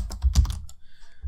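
A short, quick run of keystrokes on a computer keyboard while typing code, close and fairly soft clicks clustered in the first half second, then a near-silent pause.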